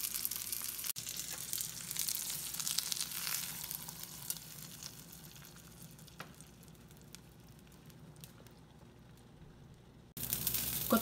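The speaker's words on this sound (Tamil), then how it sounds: "இந்த தாளிப்பை எடுத்து சாம்பார் மேலே கொட்டிடலாம்" Tempering of fried shallots poured onto hotel-style sambar, giving a loud, bright sizzle that fades to a quiet crackle, then a fresh burst of sizzling at the very end.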